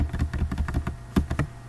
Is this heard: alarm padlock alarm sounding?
no